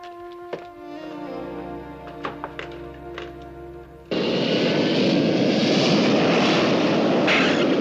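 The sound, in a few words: airplane flying and landing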